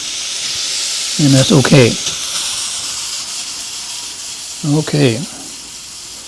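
Sausage sautés in a pot over medium-high heat for gumbo, a steady hissing sizzle running throughout, with a person speaking briefly twice over it.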